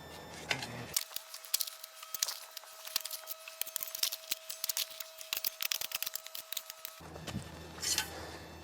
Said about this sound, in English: use a small pruning saw to more precisely cut that root